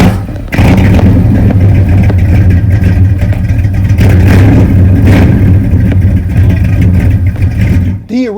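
A Dodge Demon's 360 V8 engine, backed by a 4-speed, rumbles loudly and steadily, with a few revs rising and falling before it cuts off abruptly near the end.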